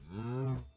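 A Minecraft cow lets out a single drawn-out moo, close and clear, under a second long with no talking over it.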